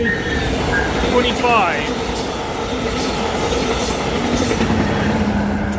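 A VIA passenger train led by a Siemens Charger locomotive rolls past a station at night, its steady heavy rumble and rail clatter loud and close, with a brief wheel squeal early on and someone talking over it.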